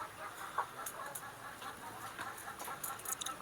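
Kampung chickens, the Yudhistira breed, cluck in a galvanized battery cage at a farm, a soft, scattered mix of clucks and short calls from several hens, fairly faint with steady background hum.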